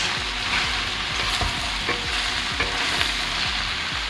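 Mushrooms and zucchini sizzle steadily in a hot pan, a constant crackling hiss broken by a series of regular scraping stirs.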